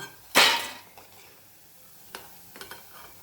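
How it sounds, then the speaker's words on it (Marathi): Dal batti frying in ghee: a sharp burst of sizzle and stirring near the start, then quieter scattered clinks and crackles. "या प्रकारे तुपात हे आपल्याला तळून घ्यायचं आहे"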